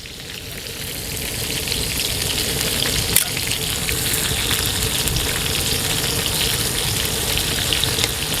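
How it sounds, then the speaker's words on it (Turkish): Eggplant slices fry in a pan with a little oil over a wood fire, a constant loud sizzle and crackle, one brief clatter midway, no talking. "bu patlıcanlarımızı koydum tavamıza. Çeviri çeviri kızartalım."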